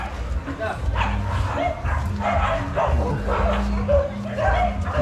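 Many dogs bark continuously on a street in Iquitos, Peru, a dense, busy chorus of barks and yips close by with voices talking over it.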